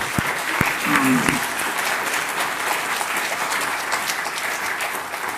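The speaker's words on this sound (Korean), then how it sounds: "우리도 박수 한번 칩시다" A seated audience at a religious reading gathering claps together in a steady, dense burst of applause lasting several seconds, with a voice heard briefly over it at the start.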